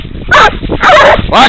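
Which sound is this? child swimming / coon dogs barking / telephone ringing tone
coon dogs barking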